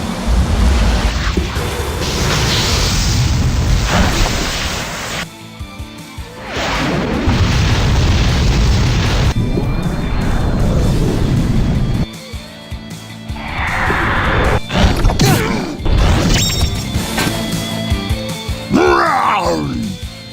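Grandia 2's Beast King Blast special attack erupts in a series of loud booming explosions separated by short gaps, building into crackling bursts and a final roaring blast, with talking heard over parts of it.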